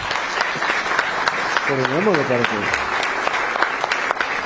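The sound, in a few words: audience applause during a speech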